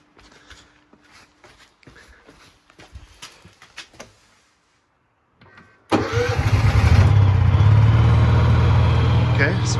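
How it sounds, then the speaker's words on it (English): A whole-house backup generator starts: after a few seconds of handling clicks and a quiet pause, the engine cranks and catches, then settles into a loud, steady running drone that continues to the end. "Okay, so we got the generator running."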